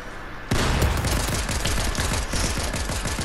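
Pistol gunshots in the Fortnite video game. A rapid run of loud, close shots starts abruptly and keeps a quick, steady rhythm to the end.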